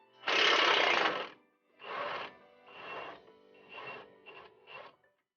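An impact wrench works a control arm bolt on a 2004-2008 Ford F-150 in several loud rattling bursts, the first long and the rest shorter and choppier, separated by brief silences, with no talking.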